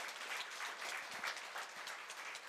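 Steady applause from an audience at a Korea University graduate school evening gathering, a soft, even patter of many hands clapping at a distance without voices.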